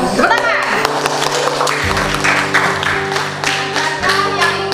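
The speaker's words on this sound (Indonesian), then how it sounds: "Tepuk tangan." Children in a classroom clap their hands in a burst of uneven, overlapping claps, close and fairly loud, with a steady hum underneath and some voices mixed in.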